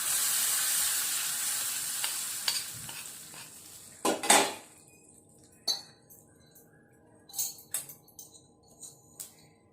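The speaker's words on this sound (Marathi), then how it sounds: "छान चमच्याने असे हलवून घेऊया" A spoon stirs buttermilk in a pot while a tempering sizzles: steady frying hiss early, then a few distinct clinks and scrapes of the spoon against the vessel, close and fairly quiet, with no voices.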